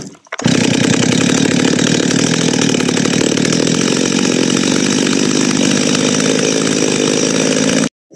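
A Stihl 025 chainsaw with excess oil in the engine runs at a steady buzzing idle, loud and continuous from a short distance, starting abruptly and cutting off at the end.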